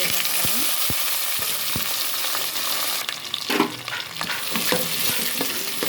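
Green chillies and onions frying in a little oil and ghee for pulao, a dense steady sizzle with sharp spoon scrapes early on, then a louder crackling burst as more is stirred in, close and without talk.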